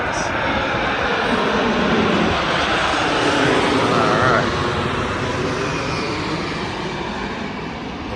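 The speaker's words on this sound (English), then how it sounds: "There's that plane coming through." A fixed-wing airplane passes overhead near LAX airport, a broad, steady engine roar that swells and fades while it fills the whole clip. A person speaks briefly over it and footsteps sound in the background.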